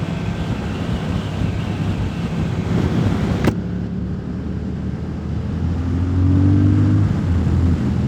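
A Triumph Thruxton TFC motorcycle pulls hard under acceleration, its engine note rising and swelling toward the end, heard amid steady buffeting wind roar, with a sharp click partway through.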